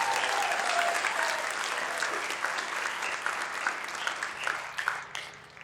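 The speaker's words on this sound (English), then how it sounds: "give Jonah a round of applause" A crowd claps for a new black belt at a martial arts ceremony, dense sustained applause that stays loud for several seconds before thinning into scattered claps near the end.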